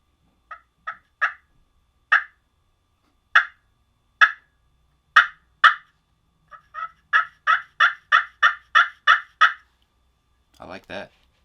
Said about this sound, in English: Let's go with the pot call here,